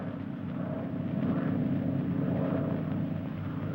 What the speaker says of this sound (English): That plane is to pick you up.